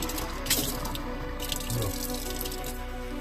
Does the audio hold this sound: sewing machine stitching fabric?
no